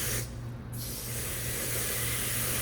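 Water from a hose sprays steadily onto a K&N air filter from the outside, a continuous broad hiss that briefly drops off and then holds strong and close.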